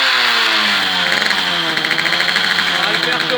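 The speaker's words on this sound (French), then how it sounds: "Donc là c'est reparti, moteur en route." An MBK 51 hybrid moped running as a prototype stage 6 R/T build with a nitro head, its small two-stroke engine catching and then running steadily close by, buzzing with a rough, knocking mid-range rasp that stays loud throughout.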